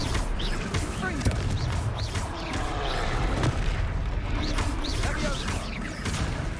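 Spell explosions and crashing blasts from a Hogwarts Legacy battle against a faltering foe, with dense booming impacts and rumbling under continuous game music and effects throughout.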